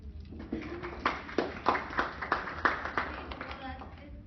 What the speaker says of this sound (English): So can we get a round of applause for them?